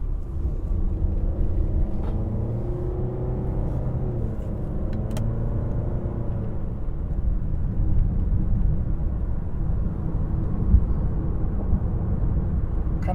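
A 2019 Nissan Rogue on a test drive, its engine and road noise forming a steady low rumble from inside the cabin, with a brief rising engine tone early on and no talking.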